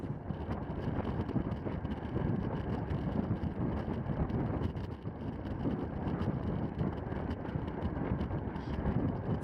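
Headwind buffets the microphone during a Cat 5 criterium bicycle race, a steady, rough, broadband rush that continues the whole time with small surges and no speech.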